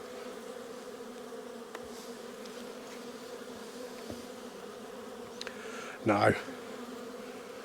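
Honey bees hum in a steady, faint drone at an open hive during a spring inspection, with a brief louder buzz as one passes close and a single short spoken word.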